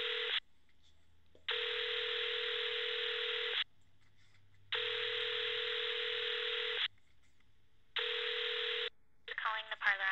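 Telephone keypad dialing tones: three long, loud beeps separated by short gaps, ending with a brief burst of muffled sound.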